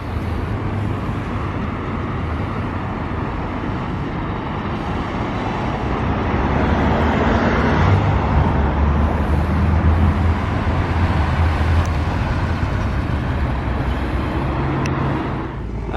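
A Porsche Carrera RS drives past outside a hotel. Its engine rumble grows from the background traffic, peaks loud and close midway, then eases off while the street noise continues.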